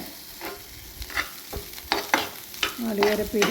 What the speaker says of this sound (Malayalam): നന്നായിട്ട് അതിലിട്ട് വഴറ്റിയെടുക്കണം.